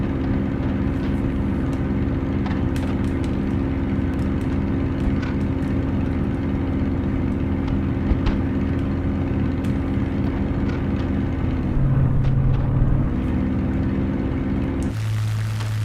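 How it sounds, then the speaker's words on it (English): Aircraft engine in Microsoft Flight Simulator making odd noises, a steady loud propeller drone with a strong tonal hum that wavers and dips in pitch near the end, then shifts abruptly. "The engine's starting to make funny noises."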